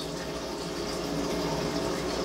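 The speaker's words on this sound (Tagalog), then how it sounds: "Rekta galing gripo." Tap water gushes straight from a faucet into a fish tank during a water change, a steady, close rushing and splashing that runs unbroken throughout with no voices.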